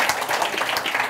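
A short burst of audience applause with dense, steady clapping, loud and close.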